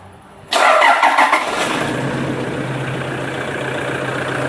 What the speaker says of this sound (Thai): เดี๋ยวผมสตาร์ทให้ฟังเสียงเครื่องยนต์เลยดีกว่า